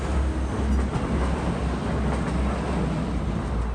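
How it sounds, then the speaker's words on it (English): A train crosses a railway bridge over a road in Grimsby, a heavy, steady rumble with deep low-end weight and faint rhythmic clatter of wheels, loud and close throughout without speech. "And here's a train to prove it."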